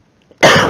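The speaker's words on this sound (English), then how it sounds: "I'm sorry for my coughing" A single loud, close cough from a sick presenter, a sudden harsh burst after near silence.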